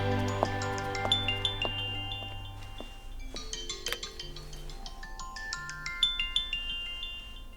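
A mobile phone rings in a dubbed Hindi action film with a melodic electronic ringtone of bright repeating tones and chimes, fairly quiet, following a low sustained tone at the start.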